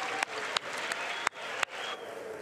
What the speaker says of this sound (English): the members of his GOP caucus applaud the passage of the biggest tax cut and revision